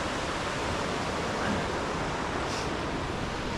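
Stony Creek pouring down The Cascades waterfall in Virginia, a steady broadband rush of falling water, full and close, with no talk over it.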